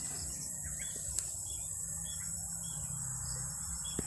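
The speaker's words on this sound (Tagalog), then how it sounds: "Dami ibon dito." Birds calling in a forest, faint scattered chirps over a steady high insect or cricket drone and low background rumble, no talking.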